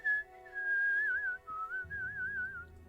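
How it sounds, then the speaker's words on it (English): A non-player character in The Elder Scrolls III: Morrowind whistles a wavering, tuneful melody, steady and close, with a faint low rumble entering partway through. "All day with the whistling."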